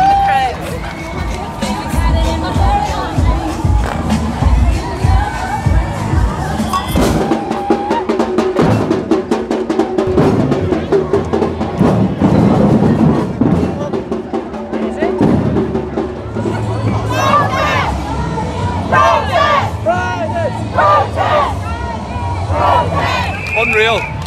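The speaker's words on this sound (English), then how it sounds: "The atmosphere is electric and you can hear the support from the crowd." A large, lively crowd at the Belfast Pride 2022 carnival, with continuous loud babble, shouts and bursts of cheering and whistling throughout, and voices chattering close by.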